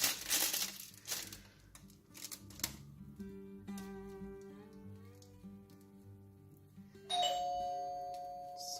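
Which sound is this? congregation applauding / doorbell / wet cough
doorbell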